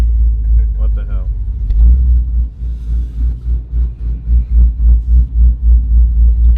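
A 500 hp Camaro idles with a heavy, lopey rumble, its deep pulses rising and falling in an uneven rhythm, loud and close, while voices talk over it.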